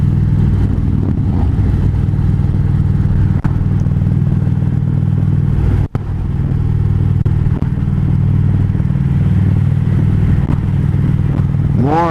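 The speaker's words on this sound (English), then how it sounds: "More and more bikes." Motorcycle engines droning continuously on a highway toward Key West, loud and close with strong wind rumble and a rider's own engine dominating, passing bikes blending into the steady roar.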